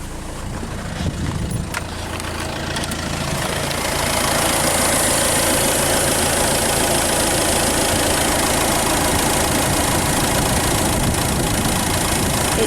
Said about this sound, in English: the 2-litre HDI engine, which is nice and smooth